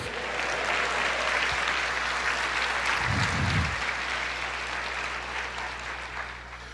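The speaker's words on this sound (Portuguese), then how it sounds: "aplauda o Senhor" A church congregation claps to praise the Lord, with continuous dense applause filling the room steadily, a low hum beneath and a brief low thump midway.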